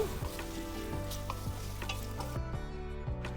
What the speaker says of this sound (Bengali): চিংড়ি মাছ কিন্তু বেশি ভাজবো না চিংড়ি মাছ বেশি ভাজলে শক্ত হয়ে যায় সামান্য নেড়ে চেড়ে দেব